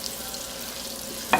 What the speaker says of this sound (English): with this 1/2 stick of butter, we're going to let this melt down just a smidge.